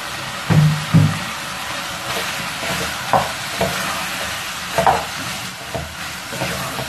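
Celery tossed into a pan of frying peppered gizzard kebab and stirred, with a few loud utensil scrapes and clanks near the start and scattered softer stirring knocks over a low steady sizzle.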